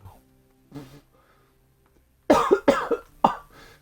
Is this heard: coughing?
yes